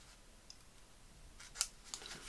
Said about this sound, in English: There is still a teeny tiny bit of that craft sticking out, so I'm actually just going to cut it off.